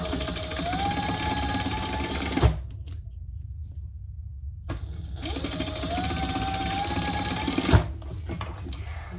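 Sewing machine basting the pieces of a convertible crossbody belt bag, stitching in two steady whirring runs with a short pause between them, close and loud.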